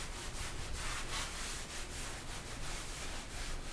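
A microfiber towel wiped back and forth across a butcher block wood countertop while oil finish is applied, a soft, steady rubbing swish with faint regular strokes, close and quiet, without speech.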